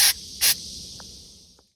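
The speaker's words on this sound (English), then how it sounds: "we bust out Demi's old spray gun, and we prime some of the areas" A spray gun applies primer paint over protected wheel wells in a fire-damaged car, giving two short, loud hissing bursts, then a fading hiss with a couple of faint clicks.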